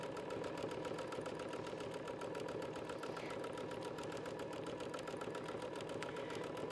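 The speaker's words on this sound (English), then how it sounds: "I'm using little tiny swirls. That's my signature stippling." A sewing machine free-motion stitches small swirling stipple patterns into a landscape quilt, its needle chattering in a fast, steady, continuous rhythm throughout with no one talking.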